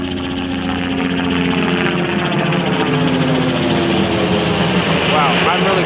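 A helicopter passes near a hang gliding site at dusk, its steady engine drone and blade chop loud and continuous throughout, with rotor buzz filling the air and a voice briefly audible over it.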